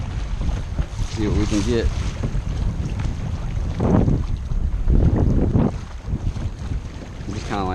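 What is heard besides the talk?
boat trolling slowly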